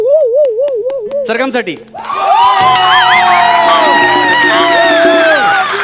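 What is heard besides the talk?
audience applause and cheering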